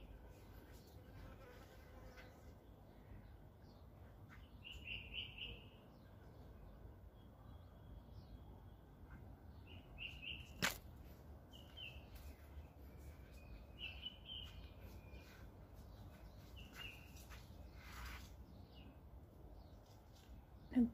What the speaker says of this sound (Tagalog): Ay, dami palang ibon doon sa taas. Nagliparan man na.